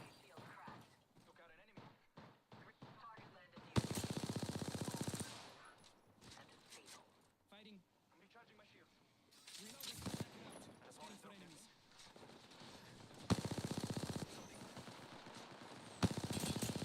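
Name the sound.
gunfire in Apex Legends video game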